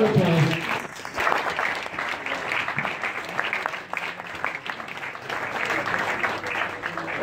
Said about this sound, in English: let's have a big round of applause